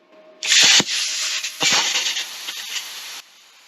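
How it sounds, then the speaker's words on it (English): Vevor plasma cutter slicing down the length of 3/8 inch steel clamped in a vise, a loud harsh hiss with crackling bursts lasting about three seconds, close up, with an air compressor running faintly beneath. "I'm gonna try to make a cut down the length of it and see how it does."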